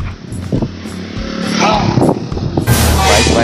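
A motorcycle engine rumbles nearby and grows louder as it rides past, with a voice speaking over the noise and wind buffeting.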